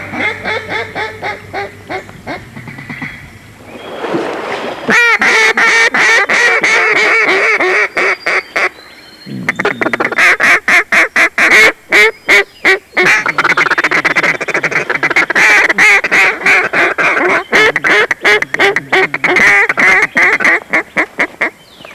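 Hen ducks quacking loudly and continuously at a hunting club, a dense flock of overlapping raspy calls with rapid bursts, close by.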